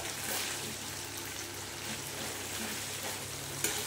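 Marinated chicken goes into hot spiced oil and fries with a soft, continuous sizzle and hiss, fairly quiet and even throughout, with a small clatter near the end.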